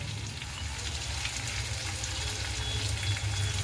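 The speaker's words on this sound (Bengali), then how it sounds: "যতক্ষণ না মশলা থেকে একটু তেল ছেড়ে আসছে, মশলাটা আমরা ভালো করে কষে নেব" Ground turmeric, cumin, chili and salt with tomato being sautéed in oil for spicy khichuri, a dense continuous sizzle that stays close and even throughout, no voices.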